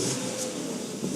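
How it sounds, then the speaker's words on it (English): A 2008 Mercedes-Benz V-Class van fitted with a WALD Black Bison body kit revs its engine in a steady, loud, close burst lasting about a second, with no talk over it. "Wow, that last rev was more than I was expecting."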